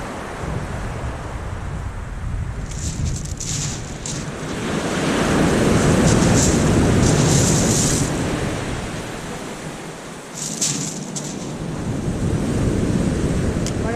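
Sea waves roll in on Weybourne Beach in North Norfolk, a steady loud surf that swells and recedes, with strong wind buffeting the microphone throughout and no one speaking.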